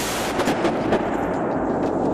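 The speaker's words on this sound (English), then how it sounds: "Guns, let's be honest, are loud." Dense, loud gunfire and blasts from the zombie action game Dead Island 2, a continuous rumbling barrage with sharp reports layered over each other, no talking.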